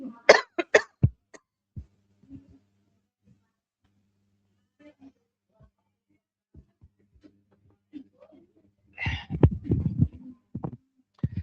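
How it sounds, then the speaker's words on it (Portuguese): Several close, harsh coughs burst out at the start, followed by quiet and scattered small noises, then a rough cough-like cluster near the end. "Eu não tenho tosse normalmente, viu?"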